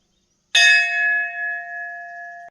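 A single loud strike of a metal temple bell, ringing out clearly with a long sustained, slowly decaying tone, alone without any talk.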